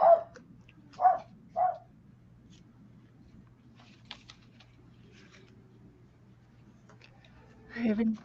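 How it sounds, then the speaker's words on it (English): A dog barks three times in quick succession, then again after a pause, fairly close against a quiet outdoor background with a faint steady hum. "Oh, dog alert."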